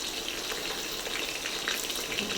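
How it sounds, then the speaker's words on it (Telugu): Tempering spices frying in hot oil for sambar, a close, continuous sizzle and crackle with small pops, no voices over it. "ఇది బాగా ఫ్రై అవ్వాలి."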